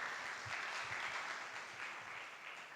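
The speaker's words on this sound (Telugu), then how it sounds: "చప్పట్లు కొడదాం." A church congregation claps together in a steady, dense burst of applause that fills the room evenly for a few seconds, with no talking over it.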